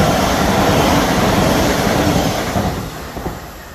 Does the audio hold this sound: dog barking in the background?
no